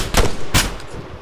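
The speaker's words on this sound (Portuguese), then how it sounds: "Não, ele tá dando tiro ainda." Gunfire in the military video game Arma 3: two sharp, loud shots about a third of a second apart, each with a short echoing tail, heard without talk.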